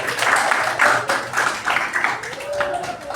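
A classroom of students claps together in a short burst of applause, dense and fairly close, with voices mixed in over the clapping.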